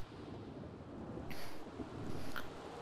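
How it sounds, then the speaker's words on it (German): A steady wash of rain and wind with low rumbling from a thunderstorm in the video game The Sims 3, with a couple of faint brighter crackles rising briefly. "Und ein Gewitter geht hier ab, ne?"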